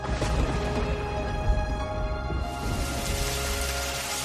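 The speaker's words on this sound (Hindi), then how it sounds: "अरे देखो, बारिश शुरू हो गई।" Steady rain falls in a forest setting, a continuous dense hiss of drops that brightens and thickens partway through, with no voices over it.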